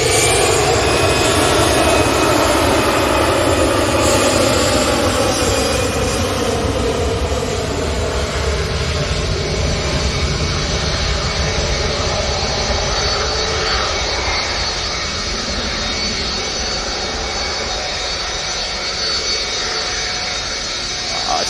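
A Boeing 757 jet taking off roars loudly and close, its engine whine sweeping downward in pitch as it climbs away, the roar easing slightly over the long pass with no talk.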